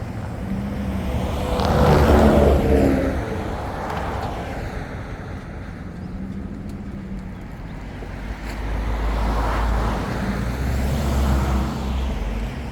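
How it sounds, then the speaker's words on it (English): A 2006 Ford F-350 with a 6.0 Powerstroke diesel engine rumbles as it drives past, swelling louder then fading, with a second engine surge toward the end. "That's how you move the truck"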